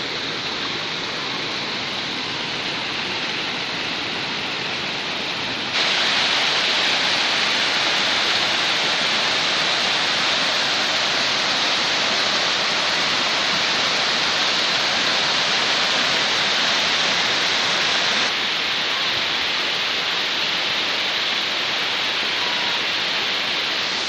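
Water tumbling over rocks near a forest waterfall in a protected hillside forest, a steady dense hiss of rushing flow that swells louder for a stretch in the middle, with no voices.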